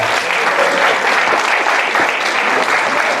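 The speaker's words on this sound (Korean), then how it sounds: "큰 박수 부탁드립니다" An audience at a Korean team competition's prize presentation bursts into loud, sustained applause, dense clapping filling the hall throughout.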